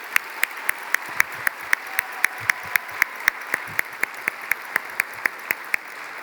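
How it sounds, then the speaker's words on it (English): Applause at a high school graduation ceremony rings out in a large hall, with a broad crowd wash and a regular string of sharp, close claps repeating about every third of a second. "I want you to give them a round of applause to say thank you"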